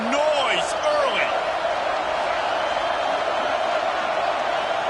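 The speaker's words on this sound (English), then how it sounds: "This crowd bringing the energy and noise early." Football stadium crowd at a TWFL game roars in a steady, loud wash that fills the whole stretch, with a commentator's voice talking over it.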